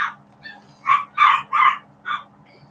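Small pet dogs bark indoors, a handful of sharp yips in an uneven burst, close and fairly loud over a faint room hum.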